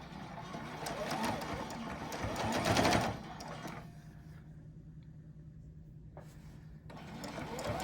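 A sewing machine stitches binding onto a quilt a quarter inch from the edge with its presser foot down, a steady whirring run that builds, then eases to a quieter hum before picking up again.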